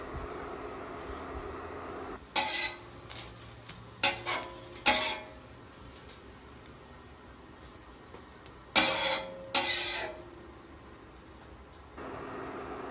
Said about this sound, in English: Just make sure you work that bottom, get that fond off from the sausage and the bacon grease.